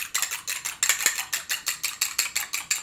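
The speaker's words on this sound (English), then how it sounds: "I'm going to whisk that up" An egg being whisked in a bowl: a steady run of about a dozen bright, clicking metal strokes against the dish, close and evenly paced, with no talk.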